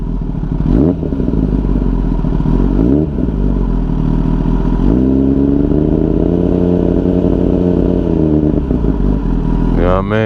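A 2021 Kawasaki ZX10R sport bike engine revs hard and close, several throttle blips rising and falling over a steady loud idle, ending on a sharp climb.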